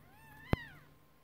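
A single short, sharp meow from an angry cat rings out close by, with quiet room sound before and after it.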